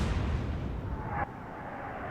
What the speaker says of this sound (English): Another beautiful explosion.